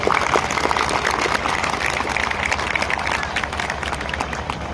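Audience at a pension rally clapping in a dense, continuous wash of applause with crowd noise, steady and fairly loud throughout.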